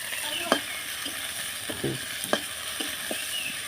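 Chopped onions fry in oil in a wok, giving a steady sizzle broken by a few sharp knocks and scrapes of stirring, with no speech.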